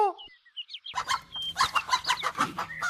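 A rooster and hen of a good breed cluck at close range, a brief high call leading into a steady run of busy, overlapping clucks that fills the last two seconds.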